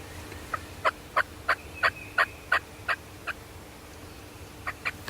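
A wild turkey gobbles repeatedly in timber, a steady string of about nine sharp gobbles with a pause and then two more, heard at moderate distance with no talking.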